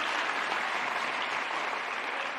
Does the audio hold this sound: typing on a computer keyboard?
no